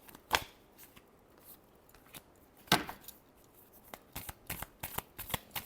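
Tarot cards being shuffled by hand, a few crisp riffling bursts and then a run of soft, quick card flicks and taps, close and quiet with no talking.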